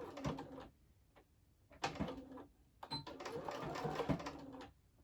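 Home sewing machine running a top stitch about 1/8 inch from the edge of folded fabric on a small fabric wallet, in three short bursts of close, steady whirring with brief pauses between.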